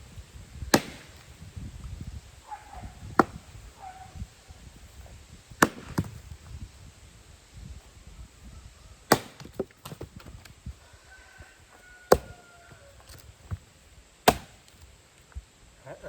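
Axe splitting firewood outdoors, a few sharp chopping strikes spaced several seconds apart, with roosters and chickens clucking faintly in the background.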